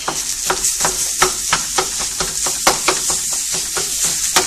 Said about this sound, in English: So I'm going to add the meat.